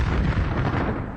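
A large explosion during the bombing of an Iraqi nuclear reactor, a dense continuous roar rumbling heavily through the low end for the whole stretch with no break and no voices.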